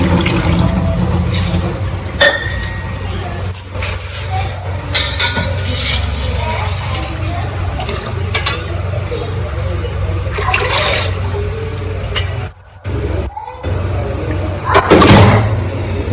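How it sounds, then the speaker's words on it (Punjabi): Water pours steadily into a cooking pot of desi-ghee tempered rice, a continuous close splashing flow lasting about sixteen seconds with brief breaks and faint background voices. "ਆਪਾਂ ਮਿਲ ਕੇ ਪਾਣੀ ਪਾ ਦਾਂਗੇ"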